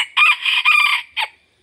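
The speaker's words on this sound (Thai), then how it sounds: "เสียงเหมือนไก่เถื่อนครับผมเสียงเล็กตัด 5พยางครับผม" A young rooster about eight months old crows close by with a thin, small voice, sounding like a wild junglefowl: one loud crow with a short clipped final note, with no talk over it.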